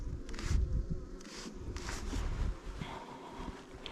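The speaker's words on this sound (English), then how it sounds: "Lots of bees in the lid." A swarm of honey bees buzzes close by at an open hive, the hum swelling and fading as insects pass near, with light wind rumble underneath.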